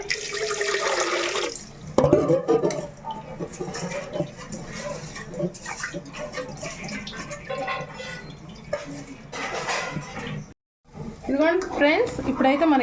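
Water at a rolling boil in a cooking pot, ready for rice, bubbles and churns steadily throughout, with a voice speaking over it.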